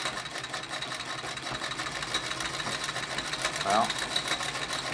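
An 1887 Singer sewing machine runs steadily with a dense mechanical whir and clatter, close up, while a voice briefly speaks over it.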